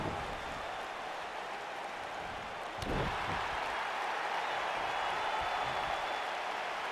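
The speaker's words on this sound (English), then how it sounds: "Crowd's into it." Crowd noise in the wrestling video game WWE 2K19, a steady roar of cheering and applause from the arena audience with one brief thud partway through, continuous and fairly loud.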